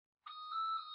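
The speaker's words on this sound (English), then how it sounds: "And that's my phone ringing," A mobile phone rings indoors with a steady electronic tone that starts after a short silence and holds for the rest of the moment, close and clear with no talk over it.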